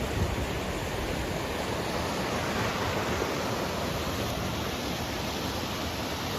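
Waterfall in a Vermont forest near a covered bridge, rushing in a steady, dense broadband roar with no pauses, heard from close by at the top of the falls.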